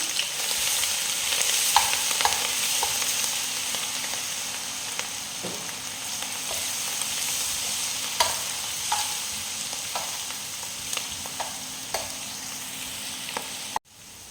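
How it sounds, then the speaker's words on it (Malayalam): Ginger and garlic being sautéed for Kerala-style beef curry, a steady close sizzle of frying with occasional stirring clicks throughout, no talking. "അതിലേക്ക് ഇഞ്ചിയും വെളുത്തുള്ളിയും ഇട്ട് വഴറ്റാവുന്നതാണ്."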